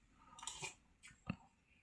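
Soft, close chewing and crunching of Maggi noodles with fried egg, a few quick bites and crisp chews over under two seconds, faint and intimate in a quiet room.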